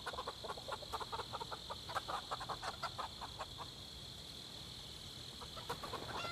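Chickens cluck in the game Project Zomboid on a farm packed with birds, with a busy run of short clucks and squawks over a steady high electronic hum, then a quieter stretch before a few more calls near the end.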